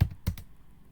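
A few quick keystrokes on a computer keyboard during a PostgreSQL database tutorial, a short cluster of taps at the start followed by quiet room tone.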